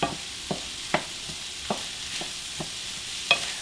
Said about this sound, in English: now while I'm giving that a stir